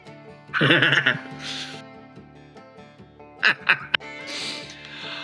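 A voice imitates a duck's quack during a tabletop role-playing game session, giving a few short, loud nasal honks near the mic, with a brief pause and then a couple more quick bursts.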